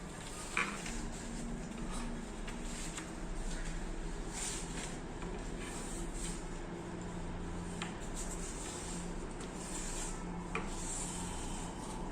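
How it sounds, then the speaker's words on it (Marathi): A steady, close rasping scrape of a craft cutter blade drawing through paper while making a paper lantern, continuous and fairly quiet, with a few small ticks along the way. "कटरनी कापा, म्हणजे एकसारखं कापलं जाईल"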